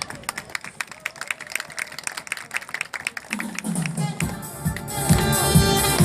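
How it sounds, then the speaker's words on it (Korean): Crowd clapping at a seaside song festival on a beach in Daecheon, dense and steady and growing louder, with music and cheering swelling in toward the end. "큰 박수가 필요합니다"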